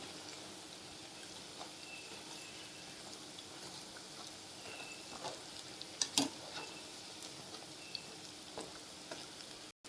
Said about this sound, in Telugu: ఇలా ఈ కలర్ వచ్చేంత వరకు బాగా ఫ్రై చేసుకోవాలండి